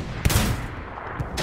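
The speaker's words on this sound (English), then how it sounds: "Watch the explosion." Sharp bursts in the World War II shooter Hell Let Loose: a loud blast followed by a rumbling tail, then a couple of smaller cracks, close and punchy.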